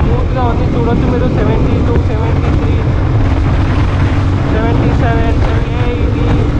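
A 2014 Yamaha FZS motorcycle cruising at speed in fifth gear, its steady engine drone blended with heavy rushing wind across the whole stretch, loud and continuous with a voice talking over it.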